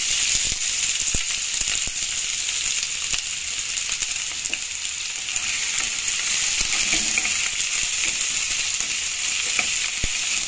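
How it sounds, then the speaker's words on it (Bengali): Chopped onion frying in hot white oil, a steady, loud, continuous sizzle and hiss that holds throughout, with a few faint clicks of stirring and no talk. "তেল গরম হয়ে গেছে, এবার দেবো আমি পেঁয়াজ কুচি।"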